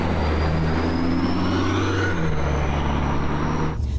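An Alpina D5 Biturbo pulls away, its engine a steady, close drone that shifts pitch once partway through, with no talk over it.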